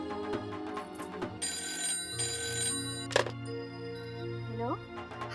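A telephone rings indoors in a television drama scene, its electronic ring sounding in two clear bursts over a steady musical background, moderately loud and near.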